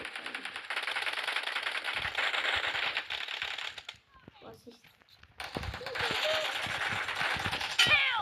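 Rapid automatic gunfire from the battle royale game PUBG crackles in dense bursts, breaks off briefly, then resumes with sharp single shots near the end, with a player's voice talking over it.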